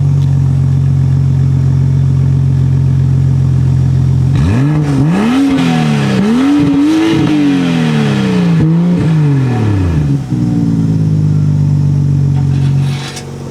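A BMW X5 F15 engine idles, then revs repeatedly with the exhaust valve open, in rising and falling bursts with a loud, deep exhaust note, before settling back to a steady idle.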